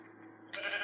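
A sheep bleats in a video game set in arctic survival, one short bleat arriving abruptly partway through over a steady low game hum.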